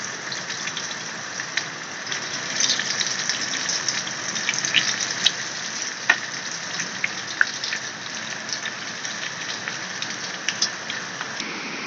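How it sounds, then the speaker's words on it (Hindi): Chicken cheese croquettes frying in hot oil in a small saucepan, a steady dense crackling sizzle with scattered sharper pops, continuous and close, no voices. "उसमें मैंने ऑयल डाला। इसको फ्राई करेंगे।"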